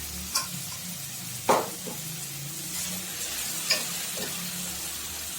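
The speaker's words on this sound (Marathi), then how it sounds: "आता मी त्याच्यामध्ये टाकणार आहे शिजवून घेतलेली उडदाची डाळ" Cooked black urad dal is tipped into a sizzling tempering in a hot pan, with stirring and a few soft knocks; steady crackle throughout, no talking.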